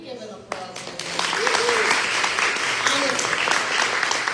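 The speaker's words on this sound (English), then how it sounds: "Can we give an applause to them?" An audience claps for the men attending a women's health event in Pennsylvania, the applause starting sharply and swelling into a dense, sustained roar of many hands, with voices faintly mixed in.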